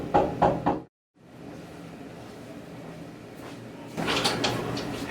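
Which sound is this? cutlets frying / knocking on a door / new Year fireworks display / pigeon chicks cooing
knocking on a door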